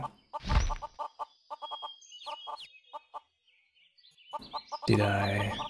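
Rooster in the online game Mabinogi, a run of short clucking calls in quick bursts, then a louder, denser burst of game sound effects at the end.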